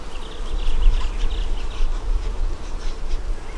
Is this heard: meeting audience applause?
no